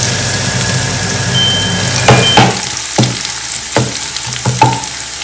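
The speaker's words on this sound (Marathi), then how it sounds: "क्रिस्पी फ्राय करायचं." Plenty of garlic frying crisply in oil in a pan, a loud, dense, steady sizzle close up, punctuated by several sharp knocks of a spatula against the pan.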